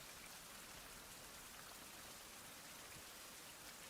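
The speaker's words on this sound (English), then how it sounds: "it's a shame that it's raining" Rain falls steadily in the video game Lone Survivor, a faint, even hiss of dense drops with no breaks or other sounds.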